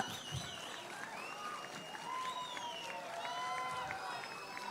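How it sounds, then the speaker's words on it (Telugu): A crowd at an International Disabled People's Day event applauds to welcome Chief Minister Chandrababu Naidu, soft and fairly distant steady clapping with a murmur of voices beneath. "ఒక్క రౌండ్ చప్పట్లు గట్టిగా"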